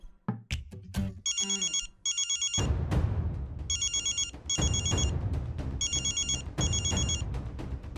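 A mobile phone rings with a repeating electronic melody in short bursts, loud and near, over a busy background of clatter and murmur.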